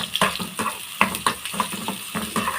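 A small onion sautés in a hot pan for a simple Egyptian fava bean dish, a steady sizzle broken by several close scraping stirs.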